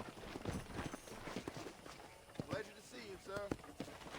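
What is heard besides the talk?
horse hooves walking, from the video game Red Dead Redemption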